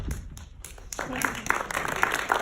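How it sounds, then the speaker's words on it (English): Applause ripples through a forum audience at an MIT Enterprise Forum event on the AR/VR/MR industry, starting quiet and building into a moderate spread of clapping, with speech audible beneath it. "No applause necessary."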